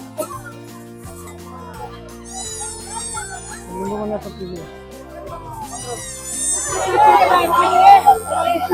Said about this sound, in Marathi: गर्दी एवढी अशी झाली बघ, किती गर्दी